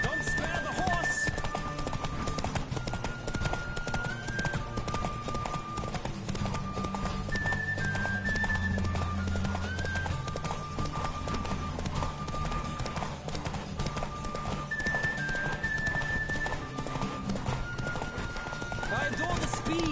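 Rapid hoofbeats of a galloping horse with whinnies in the video game The Witcher 3: Wild Hunt, layered over busy game music and effects throughout.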